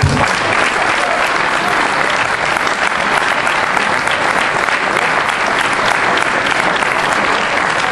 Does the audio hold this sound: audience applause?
yes